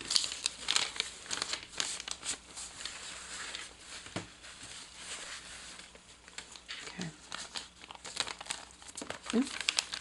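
Layered paper being folded for an embellishment book, with close crinkling and rustling in bursts that run throughout, plus occasional taps.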